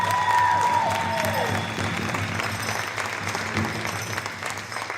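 Crowd applause at a college powwow for a men's traditional dancer, dense clapping from a large audience with a few cheers and faint voices, holding steady throughout.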